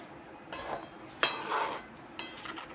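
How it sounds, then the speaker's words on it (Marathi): Grated mango and sugar being stirred in a kadhai for a Solapur-style sweet mango preserve, with a few sharp clinks of the spoon against the pan amid soft scraping. "बघा कढईमध्ये हे साखर ह्या किसमध्ये आंब्याचा किस आहे त्यामध्ये असं हलवून घेऊया"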